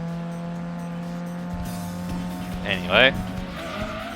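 A car engine drones steadily on a race track in a video game, rising with squealing tires and a brief skid near the end, while someone speaks over it.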